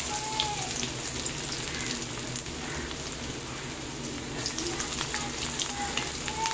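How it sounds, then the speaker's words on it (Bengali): Chopped ginger and garlic fry in oil for a pui chachra dish, a steady dense sizzle hissing evenly throughout with faint scattered pops, close and continuous. "যে রসুনগুলোকে কুচিয়ে রেখেছি সেই রসুনটাও দিয়ে দিচ্ছি।"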